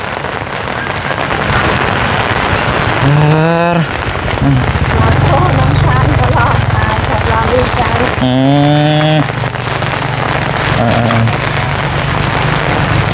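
Heavy rain pours steadily onto a rural Thai home, a loud continuous hiss and patter throughout, with a voice and brief tonal sounds breaking in twice over the downpour.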